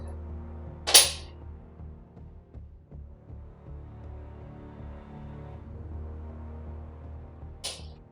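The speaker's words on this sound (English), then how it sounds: "Ah, it's a torpedo" Torpedo launch in the Harpoon naval combat game: a sharp, loud burst at the start, then a low rumbling hum underneath, and a second brief burst near the end.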